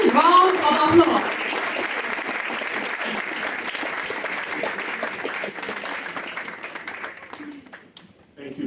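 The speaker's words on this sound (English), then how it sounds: "Let's welcome him with a resounding round of applause." An audience at a university Culture Day event gives the keynote speaker a sustained, dense round of applause that holds steady and then fades away near the end, with faint voices underneath.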